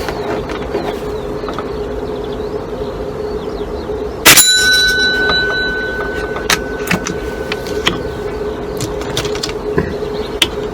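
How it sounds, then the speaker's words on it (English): An airgun pellet strikes a metal bell target once with a sharp clang, and the ring decays slowly. The shot comes over a quiet outdoor background with faint ticks. "I do like that bell target"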